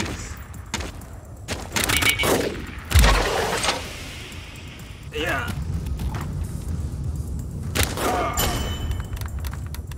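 Units in the real-time strategy game Warpips firing on an enemy base, scattered shots and heavy booms at irregular intervals, with a deep thump midway and someone talking over the battle.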